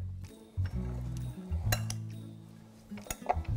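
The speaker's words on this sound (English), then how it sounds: "So let's give it a little bit of a stir." Peppers being stirred in a metal pot for Louisiana catfish tacos, with a few sharp clinks of a utensil against the pot over a low background hum, close by and moderately loud.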